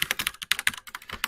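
Rapid, uneven typing on a computer keyboard, a close sequence of sharp individual key clicks with short gaps, heard alone without talk.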